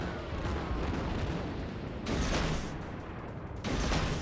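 Salvos of naval gunfire from warships in World of Warships roll as dense, booming rumbles, with two louder bursts rising over a constant battle din.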